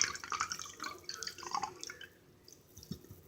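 Liquid from marinated artichokes drips and trickles as they drain in a kitchen, giving close, irregular splashy drops that thin out toward the end, with no voices.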